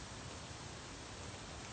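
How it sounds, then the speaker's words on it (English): Wind moves through the leaves of a forest canopy in an even, dense rustling hiss, steady and unbroken over a moment with no voices. "this is the sound of the wind moving through the leaves in the canopy of a forest."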